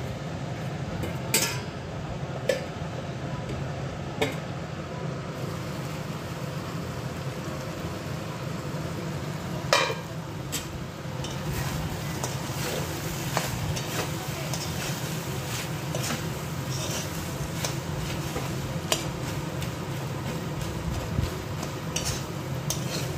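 A vegetable ghonto is stirred and fried in a pan with repeated metallic scrapes and clinks of a spoon against the metal over a low sizzle, close and fairly loud, with brief faint voices in the background.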